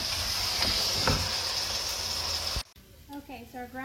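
Browned ground beef, fat drained, sizzles in a pan over medium heat with a steady, close hiss that cuts off abruptly, after which a voice talks.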